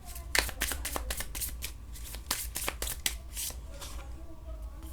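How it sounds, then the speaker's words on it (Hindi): Tarot cards being shuffled by hand, a rapid run of crisp riffling slaps and flicks close by, steady over a faint low background hum with no talking. "कुछ कार्ड्स और मैं शफल करना चाहूँगी।"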